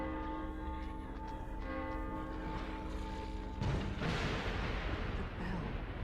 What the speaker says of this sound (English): The bell. They're drawn to it.